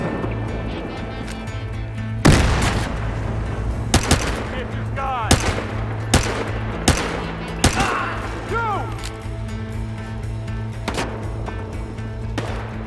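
Gunfire in the stealth heist video game Monaco: several sharp gunshots crack out at irregular intervals over a steady background game soundtrack, with brief chirping effects between shots.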